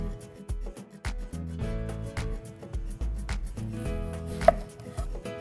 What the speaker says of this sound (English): flat side facing down, I'm gonna make incisions into the onion 1/2 inch away from the nub